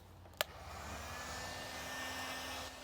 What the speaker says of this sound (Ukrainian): Як чуєте, фен працює.